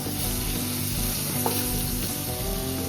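Paneer butter masala frying over a low flame while slowly stirred, a steady close sizzle running throughout with faint utensil scrapes and no talking.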